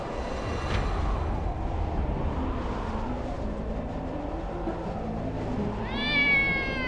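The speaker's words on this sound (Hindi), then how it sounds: "बिल्ली की रोने की आवाज, ये तो अब शकुन की निशानी है।" A cat crying and meowing, a drawn-out wavering meow rising near the end, heard faintly through a dense, steady rumbling background.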